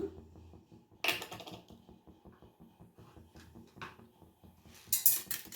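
Mustard seeds spit and crackle in heated cooking oil, a scatter of small sharp pops at close range with a couple of louder bursts, no voices.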